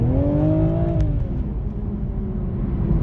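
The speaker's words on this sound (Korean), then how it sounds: "이렇게 가속을 해나갈 때에 곱게 갈려있는 직렬 6기통에서 나에는 이 사운드가" Inline-six engine of a 2024 BMW Z4 M40i accelerating hard, a loud, steady drone with rising then settling harmonics as the revs climb, close up with no talking.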